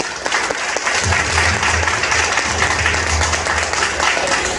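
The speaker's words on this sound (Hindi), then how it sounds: "जोरदार ताली होनी चाहिए।" Audience applause at an event, a loud, sustained wash of many hands clapping close by, with a low hum underneath and a few faint voices.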